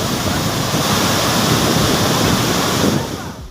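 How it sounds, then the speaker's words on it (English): Heavy overflow of water pouring over the Hub Dam spillway and flooding the area around the dam, a loud, steady, broadband roar that holds constant before easing slightly at the end. "This is the Hub Dam spillway, and you can see there's a very heavy overflow."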